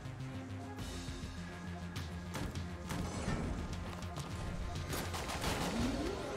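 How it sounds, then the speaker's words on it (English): Explosive rounds from a pistol in the Enter the Gungeon roguelike shooter, heard as a dense, continuous barrage of crashing shots and bursts over a steady game music bed, loud throughout with no talking. "Try this pistol out for a little bit with the explosive bullets."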